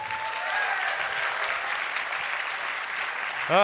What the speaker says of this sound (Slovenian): Dajmo še en aplavz za osnovnošolce.